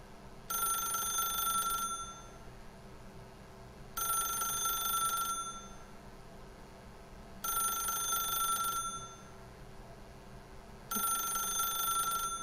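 A telephone in The Stanley Parable rings four times in a slow, even pattern, each bright electronic ring lasting about a second and a half. Quiet gaps separate the rings and a low hum runs underneath.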